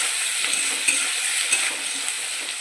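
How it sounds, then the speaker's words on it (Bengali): Potatoes and onions frying together in a pan, giving a steady, close, loud sizzle with faint stirring scrapes throughout, no voices. "লাল লাল করে একদম ভেজে নেবো আলু আর পেঁয়াজ একসাথে"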